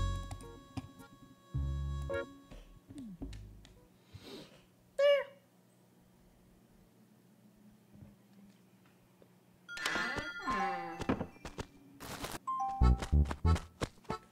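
A cat in the video game Animal Crossing City Folk meowing in short synthetic calls, scattered among chimes and game sound effects, with gaps of near silence between bursts.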